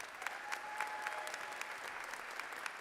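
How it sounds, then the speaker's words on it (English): A commencement audience applauds the faculty marshal and processional leaders, faint distant steady clapping from a large crowd with occasional sharper claps and a thin tone running beneath. "Would you give them a round of applause?"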